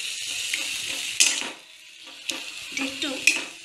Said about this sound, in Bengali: একটু গ্যাসটা বাড়িয়ে একটু নাড়াচাড়া করবো।